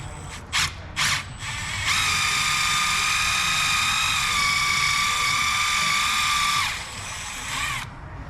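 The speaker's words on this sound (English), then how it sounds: "Stainless steel brush on a quarter drive" A stainless steel wire brush on a quarter-inch drive power tool cleans Honda Civic front brakes, opening with a few short bursts before a loud, steady, high whine that runs several seconds and then winds down.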